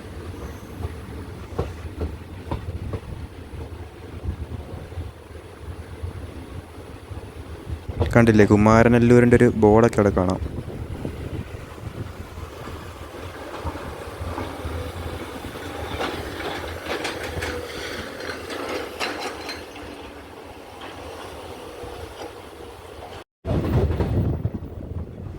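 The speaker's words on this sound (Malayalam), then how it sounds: "ട്രെയിൻ പതുക്കെയാണ് പോകുന്നത്" Inside a diesel-hauled Velankanni Express passenger train, the carriage rolls along slowly with a low steady rumble and occasional clatter. A loud squealing burst sounds midway, and someone talks over the noise throughout.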